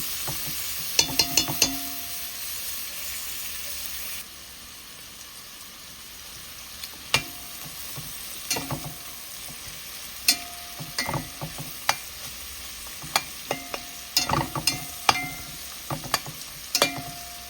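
Ingredients fry in a pan ahead of tricolor rotini pasta, with a steady soft sizzle broken by sharp clinks and scrapes of stirring utensils against the pan.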